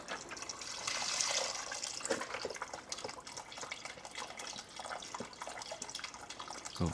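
32 ounces of vegetable stock poured into a pot with onion and garlic, a steady close splashing and gurgling liquid pour that runs continuously throughout, with no talking.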